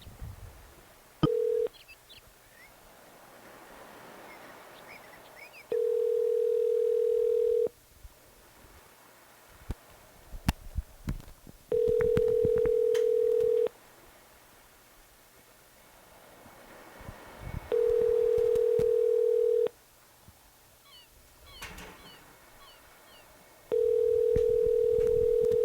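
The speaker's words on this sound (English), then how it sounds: "Alright, let's call Mark, guitar player" Phone call being placed: steady ringback tones repeat in long, evenly spaced bursts, each about two seconds, with faint button clicks and room noise between them and no talking.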